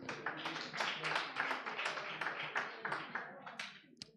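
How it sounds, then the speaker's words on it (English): An audience at a regional reproductive justice litigation gathering claps hands, a dense patter of claps running steadily and fading out toward the end, mixed with some voices. "let's have a hand clap for every one of us."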